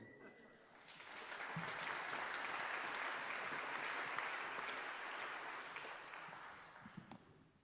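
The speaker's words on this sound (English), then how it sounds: "How about a round of applause for Pastor Bill?" Audience applause fills a Christmas jazz concert hall, swelling within the first second and holding steady for several seconds as a dense wash of clapping before gradually thinning out.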